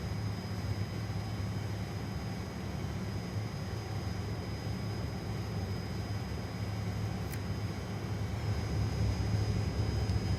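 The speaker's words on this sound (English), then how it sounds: "Super complicated engine 1 start." Jet engine number 1 of a Fokker 28 airliner spools up in a flight simulator game, a steady broad roar with a low hum and a thin high whine, continuous and fairly even throughout.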